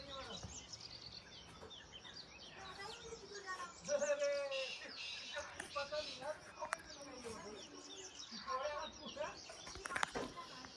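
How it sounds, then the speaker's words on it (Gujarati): Birds chirp and call repeatedly near a river source in the mountains, with pigeon-like coos possible, the calls scattered and fairly close amid steady outdoor ambience. "ખુશ થઈ જાય એટલું પક્ષીનો અવાજ આવે"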